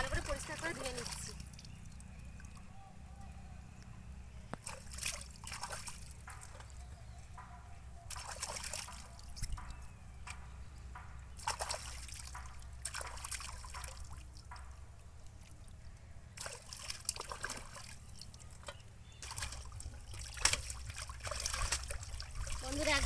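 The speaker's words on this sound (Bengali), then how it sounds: "মাছগুলো পুকুরে জলে ভালো করে পরিষ্কার করে ধুয়ে নিচ্ছি।" Fish (bata) are rinsed by hand in pond water, which trickles and splashes softly and steadily for a long stretch under a constant outdoor hiss.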